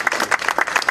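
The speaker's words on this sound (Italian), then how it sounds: "un applauso perché non avete visto il loro pezzo, ma era splendido" Theatre audience applauding after a monologue and dialogue performance, a short burst of individual claps in quick uneven rhythm, moderately close and fairly soft.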